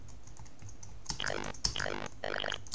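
Rapid bursts of typing on a computer keyboard during play of the game Cosmic Sheriff, clustered clacks in three quick flurries after a quieter opening with faint game sounds.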